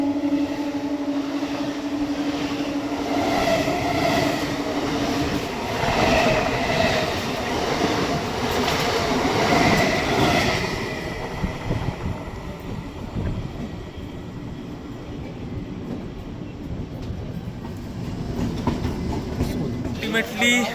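The Sairang Kolkata Express rumbles into Naihati Junction, a loud, sustained rail roar with clattering wheels and a squealing tone that fades into a steadier, quieter rolling hum as the train slows.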